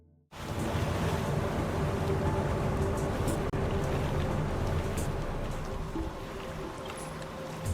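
Boat scene in the video game Silent Hill: Downpour: a steady, loud wash of water and wind rumbles continuously with no talk, like an engine-driven boat moving over choppy water.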